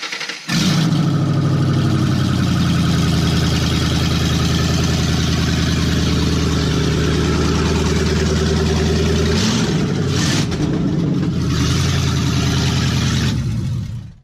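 A 2005 Ford Mustang GT V8 runs on open headers after its exhaust has been removed. It idles loud and close with a raw, lumpy rumble, blips briefly around ten seconds in, then settles back and cuts off at the end.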